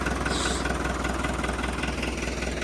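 A 2011 air-conditioned TD100 tractor engine idles steadily and close by, a continuous low rumble with a faint rhythmic throb and no voices.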